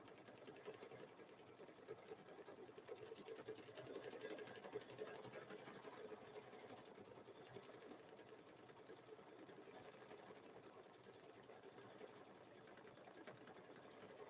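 An embroidery sewing machine stitches a chicken-themed quilt block held in its hoop, producing a steady, fast mechanical whirring and needle chatter that runs continuously at moderate, even volume without talking.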